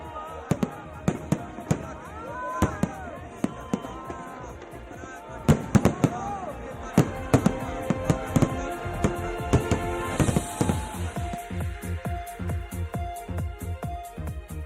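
Firecrackers burst in a rapid irregular string, sharp cracks and pops near and far, thinning into scattered bangs over a steady background crackle, with faint voices in the background.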